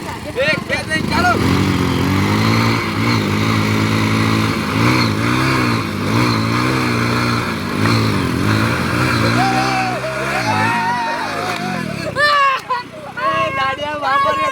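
Two small commuter motorcycles, a Hero HF Deluxe and a Bajaj Platina, rev hard in a head-to-head race, their engines droning and rising and falling in pitch under loud, constant voices.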